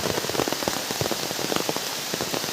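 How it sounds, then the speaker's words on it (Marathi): Heavy monsoon rain pouring steadily in a Konkan forest, a dense continuous hiss with scattered close drops pattering on leaves and surfaces throughout, loud and with no voices. "पाऊस खूप आहे त्यामुळे ते थांबलं"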